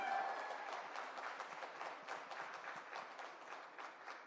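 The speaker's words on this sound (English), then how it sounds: "So a huge round of applause for all of you." Audience applause at a tech awards ceremony in India, a steady patter of many hands clapping at moderate distance, fairly soft and even throughout with no voices over it.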